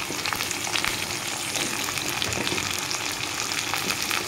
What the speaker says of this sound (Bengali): তো পেঁয়াজের সাথে আলুগুলো ভাজা হয়ে যাবে।